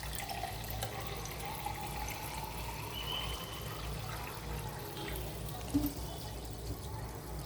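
Soda pours into a glass with a steady, faint fizzing trickle that continues throughout, with a small splash near the end.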